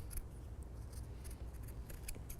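Scissors trimming the paper edge of a gingerbread house holiday card holder, a run of quick crisp snips close to the listener over a low steady room hum, with no talking.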